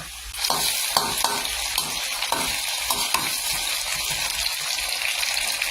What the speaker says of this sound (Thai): ทอดสามชั้นก็ดีอย่างเราได้น้ำมันจากสามชั้นด้วยนะคะ